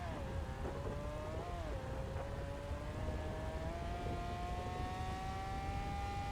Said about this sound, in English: The engine isn't that bad either, sound-wise